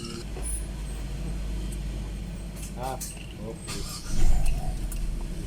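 A 2016 Hyundai Santa Fe engine runs with a steady low rumble after an ABS sensor replacement. Voices talk over it throughout, and the engine swells louder near the end.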